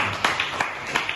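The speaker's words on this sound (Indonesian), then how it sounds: "Ya, tepuk tangan untuk kelompok" A classroom of students gives a short round of applause for a discussion group, a few scattered sharp claps over about a second, fairly close and not very loud.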